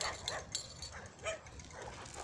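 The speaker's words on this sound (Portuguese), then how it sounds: "Dá para escutar ainda um cachorro latindo." Distant dogs yip and bark intermittently, faint and scattered over a steady background hiss, with several short calls spread across the moment.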